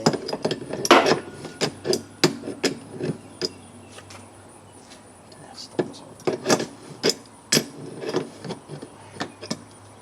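Crescent wrench clicking and knocking against a bracket under a 1996 GMC Jimmy while adjusting the air conditioner, sharp metallic taps and ratcheting clicks in irregular bursts, close up, with a faint steady insect-like whine behind.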